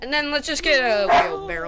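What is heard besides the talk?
dog barking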